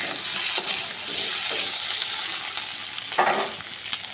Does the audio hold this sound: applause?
no